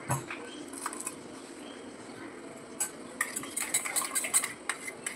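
A spoon stirs garam masala into sour yogurt in a bowl, with soft scraping and light clinks of metal against dish that grow busier toward the end, fairly quiet and without talk.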